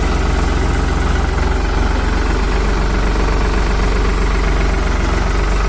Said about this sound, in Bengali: তো গাড়িটা এখন চলে যাবে।